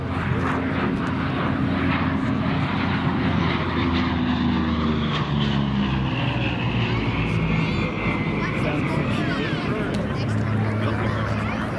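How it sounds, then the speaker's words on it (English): Two P-38 Lightning twin-boom, twin-engine fighters with short racer-style exhaust pass by at an airshow in Santa Maria, California, their engines droning steadily and loudly, the pitch sliding as they sweep past, with an announcer talking over the noise. "you can already hear the difference in the sound. Short exhaust fans just like a racer. Two of the rare P-38 still flying."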